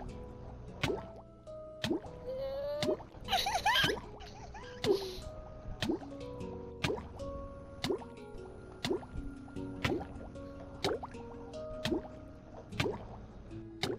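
Video game character drowning in water: repeated dripping, squishing liquid sounds at a steady rhythm, with brief bubbly gurgles in the middle, alone and fairly quiet.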